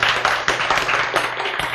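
An audience breaks into brisk, steady applause, a dense burst of hand claps close by, with no voices over it.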